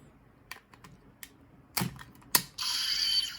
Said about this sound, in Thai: เมื่อเสียบลงไปก็จะมีเสียงหนังสือ เสียบลงไปด้วยทีนึง